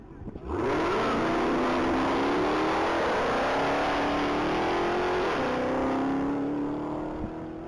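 A 2017 Dodge Charger SRT Hellcat makes a top speed run at a standing-mile race event. The engine is loud and sustained, and its rising pitch shows it accelerating hard through the gears while it stays near the listener.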